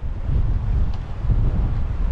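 Gusty wind buffeting the microphone outdoors near the waterfront at Manoel Island, Malta, a loud low continuous rumble filling the whole moment with no speech.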